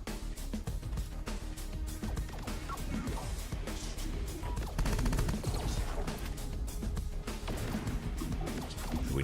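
Shotguns blast in a dense, chaotic firefight in Terminator Dark Fate Defiance, with many sharp reports and crashes layered over loud continuous battle noise.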